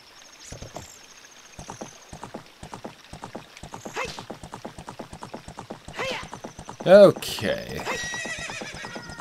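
Rapid, steady hoofbeats of a horse being ridden in Zelda: Ocarina of Time, galloping clip-clop with game music, a loud whinny near the end and someone briefly speaking.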